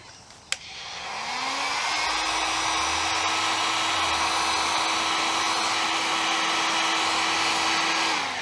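A heat gun warming glue on a car door card of an XT Falcon clicks on and spins up to a steady, loud blowing whir that holds for several seconds, close by with no talk.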